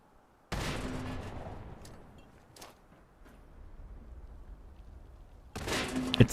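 Grenades go off in Fallout 76: one sudden blast slams in near the start and rolls off into a long rumble, then a second burst hits near the end.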